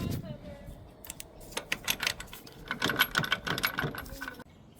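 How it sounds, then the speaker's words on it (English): A hand ratchet working on the motor mount bolts of a 2015 Nissan Altima 2.5L, close irregular clicking bursts with metallic clinks in between, under a quiet hum. "so we'll take these bolts off, get these out, get this motor mount out of there"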